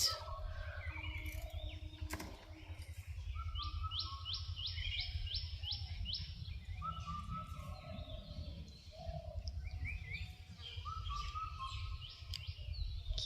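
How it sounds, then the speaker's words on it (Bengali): Several birds sing and chirp in bright, repeated melodic phrases over a steady low rumble of background noise, with no talking. "সুন্দর না পাখির আওয়াজটা"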